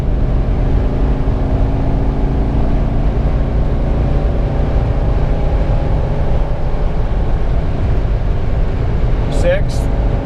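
An LS/LT V8-swapped Jeep Wrangler engine with an LT1 drones loud and steady at about quarter throttle, a constant low rumble with a brief higher chirp near the end.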